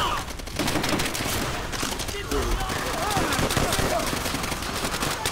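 Machine gun fire in the World War II shooter Call of Duty: World at War, dense rapid bursts of automatic gunfire with overlapping distant shots and battle noise, loud and continuous, with voices shouting under the fire.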